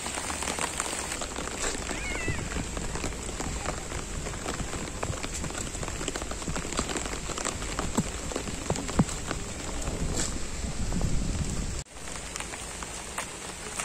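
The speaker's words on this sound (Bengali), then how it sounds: "এখন বৃষ্টি হচ্ছে" Rain falls steadily at a village family home, an even wash of pattering drops heard up close without pause, dipping briefly near the end, with no talk.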